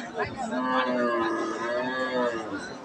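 An all-black Friesian dairy cow, about four teeth in age, lets out a long, drawn-out moo, close and clear, rising and falling over a few seconds.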